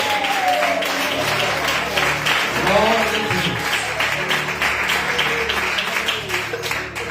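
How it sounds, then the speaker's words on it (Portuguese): A church congregation claps steadily through a dense, continuous patter of many hands, close and sustained, while voices call out and speak over it. "aplaudindo a Jesus por essa noite"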